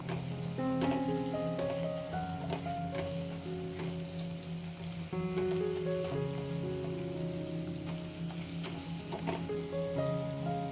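Rice pulao with salt sautéing in a pan, a soft continuous sizzle heard close and fairly quiet, with a few light stirring clicks and some tonal background hum, no voices.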